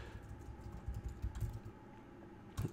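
Fingers type on a computer keyboard in quick, irregular clicks, quiet and close, with a louder burst of keystrokes near the end.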